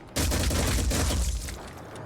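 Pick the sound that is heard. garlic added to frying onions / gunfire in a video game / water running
gunfire in a video game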